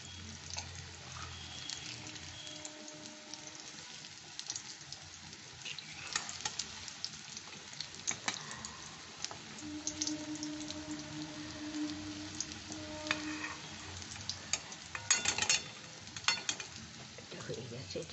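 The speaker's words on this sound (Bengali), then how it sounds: "এরকম লাল লাল করে আমি ভেজে নেব সব।" Roasted eggplant fritters fry in hot oil with a constant crackling sizzle, punctuated by scattered spits, pops and occasional utensil taps over a long stretch.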